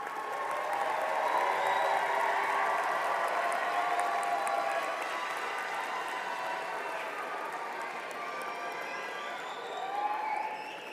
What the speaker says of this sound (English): Please stand and give all of your family members a round warm of applause.